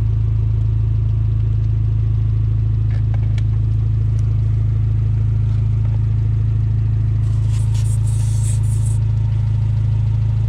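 A portable tire inflator kit runs with a steady, loud motorized hum and buzz while inflating the tires of a Fiat 124 Spider, close and continuous with no talk over it.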